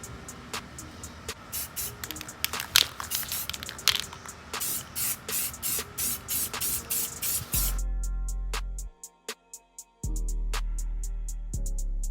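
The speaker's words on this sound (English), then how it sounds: "So I'm gonna go ahead and throw a clear coat on there." Clear coat sprayed onto an Infiniti G37 wheel rim being repainted after a paint chip: a close run of short, hissing spray bursts, then a longer steady hiss with a brief pause before it resumes.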